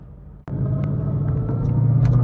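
A pickup truck fitted with a Stage 3 RSA 10R80 automatic transmission pulls away after a brief pause, its steady engine rumble rising slightly as it drives off, close and continuous with no talking.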